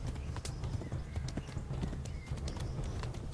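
Horse hooves clip-clop steadily in the medieval game Kingdom Come: Deliverance, a quick, continuous rhythm of close, moderately loud hoofbeats with a faint whinny mixed in over game ambience.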